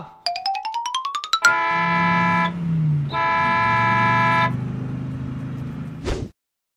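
Cartoon bus horn: a rising run of quick toots, then two long, loud blaring honks with a deep engine rumble beneath, ending in a short sharp burst.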